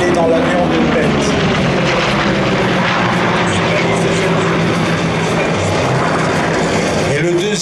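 An F4U Corsair propeller fighter, based at La Ferté-Alais, flies at an air show, its engine a loud, steady drone throughout with a commentator's voice over the public address beneath it.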